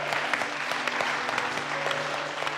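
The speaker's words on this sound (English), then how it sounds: "Give yourselves a round of applause" An audience on a cooking competition show breaks into steady applause, a dense patter of clapping hands filling the room without letup.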